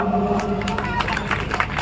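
Audience at a Hindi kavi sammelan clapping for poet Amit Azad after he introduces a song about a soldier; steady dense clapping with some crowd noise, fairly loud, continuing throughout.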